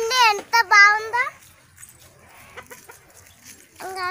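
Chickens in a mango orchard give loud clucking calls in short bursts at the start and again near the end, with quieter rustling and faint voices in the gap between.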